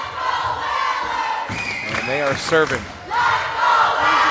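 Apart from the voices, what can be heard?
volleyball crowd chanting Let's Go Whalers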